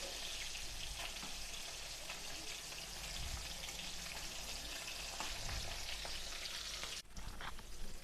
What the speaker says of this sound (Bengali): তো মাছগুলি আমি ভালোভাবে ভেজে নিয়েছি,